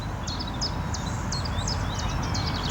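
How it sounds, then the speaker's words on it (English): A chiffchaff sings a faint, thin series of repeated chirping notes over a steady low outdoor rumble on a lake on a spring afternoon, continuing throughout. "You can hear the chiff-chaff,"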